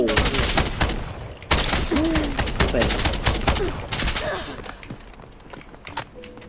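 Rapid bursts of gunfire from the video game Delta Force, with loud repeated shots and automatic volleys in a Thai-language match near an apartment, while players talk over the shooting.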